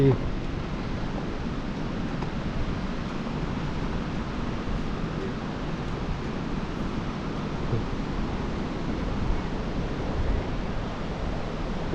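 The roar of Khon Phapheng waterfall in southern Laos, a steady, dense rushing wash of water that holds constant for the whole stretch without breaks or talk.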